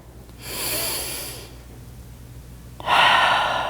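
Two deep, audible breaths taken while holding a yoga pose, a long airy inhale, a pause, then a stronger, louder exhale, close and with no talking.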